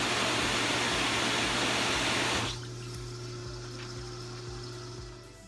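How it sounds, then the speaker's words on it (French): A spa pump running at high speed circulates water with a loud, dense rushing wash and a steady motor hum, then the rush drops to a quieter, even flow with the hum continuing. "Ce qui fait que maintenant, la pompe fonctionne en haute vitesse."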